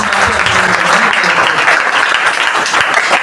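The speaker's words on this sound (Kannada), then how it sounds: "ಜೋಗ ಸರ್ ಅವರಿಗೆ ಒಂದು ಜೋರಾದ ಚಪ್ಪಾಳೆ" Loud, steady applause from an audience at a school ceremony inaugurating a digital panel board, filling the whole stretch without a break and with no talk over it.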